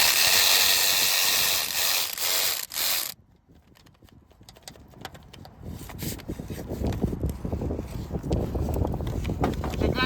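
A ratchet clicks while backing out bolts on a car's crankcase ventilation filter housing, rapid pawl ticks close up after a loud stretch of wind-like noise.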